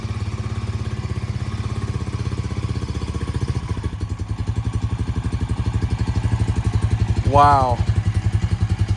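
Honda Rancher 350 ATV engine running just after starting, with no airbox fitted, a steady thumping single-cylinder idle close by, and a short exclamation from a man near the end.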